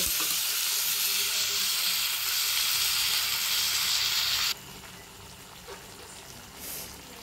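Spice paste hitting a hot wok (kadai) of fried elephant foot yam for a yam and prawn dish, a loud, steady sizzle that drops sharply quieter partway through and keeps crackling softly.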